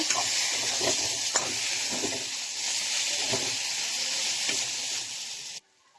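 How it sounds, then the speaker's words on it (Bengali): Fried potatoes are stirred into spices sizzling in a pan, a steady close hiss with repeated rhythmic spatula scrapes and taps, cutting off abruptly near the end, no talking. "এখন ভেজে রাখা আলুটা দিয়ে দেবো। এটাকে ভালো করে নাড়িয়ে নেব।"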